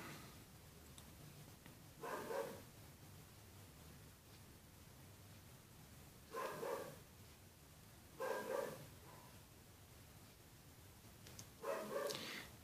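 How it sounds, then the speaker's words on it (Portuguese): A neighbor's dog barking at a distance, four short bursts of a few woofs each spaced several seconds apart over a faint steady hiss, fairly quiet. "Não é o Rolling que está latindo, tá? É o cachorro do vizinho aqui."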